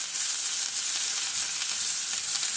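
Turnip frying in a pan, a steady, bright hiss of sizzling oil that carries on evenly throughout with faint stirring, moderately close and with no talk.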